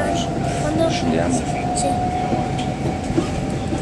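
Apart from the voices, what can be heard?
passenger train running on the rails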